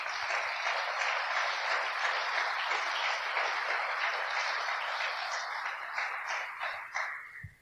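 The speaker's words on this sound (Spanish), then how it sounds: "¿Cuánto le dan un aplauso fuerte a Jesús?" A church congregation gives loud applause for Jesus, a dense, even wash of many hands clapping that holds strong for several seconds before thinning and fading out at the end.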